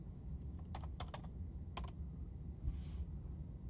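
Keystrokes on a computer keyboard while entering a material code in a manufacturing simulation game: short bursts of quick, close taps separated by brief pauses, with no talking.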